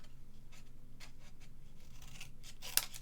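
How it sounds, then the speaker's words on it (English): Scissors cut paper from the corner in a run of quiet, rhythmic snips close by, ending with a sharper final cut. "what I prefer to do is turn it over and cut from the corner"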